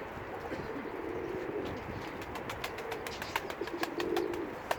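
Pigeons cooing in a coop, soft low throaty calls repeating through the clip with scattered ticks and small rustles, moderately close, no talking.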